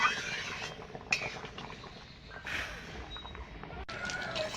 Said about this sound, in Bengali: এবার আমি রান্না করে নেব। একটু নাড়িয়ে দেবো।